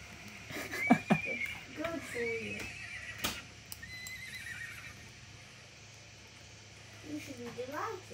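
A horse in the Roblox game The Wild West neighs sharply twice, with a shrill whinny near the start and another at the end, over a low steady background hum.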